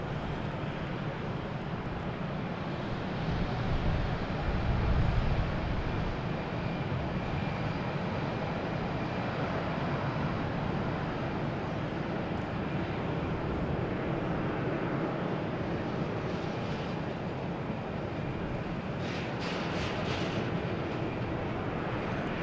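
A Dash 8 turboprop landing at Boston Logan Airport, a steady broad rumble and drone held throughout at moderate distance, with no talk.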